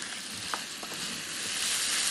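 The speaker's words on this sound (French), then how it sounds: "Et je mets les champignons parfumés, tout dans là, et je mélange." Fragrant mushrooms sizzle and fry in a hot pan over high heat while being stirred, a steady broad hiss throughout with a few brief scraping stir sounds near the start.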